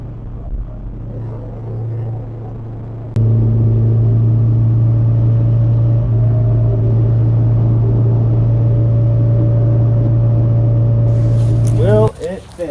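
Inside a Honda S2000 with a stripped interior and a short shifter, a loud, steady engine drone fills the cabin while driving. It jumps sharply in level partway through, and a voice is heard briefly early on.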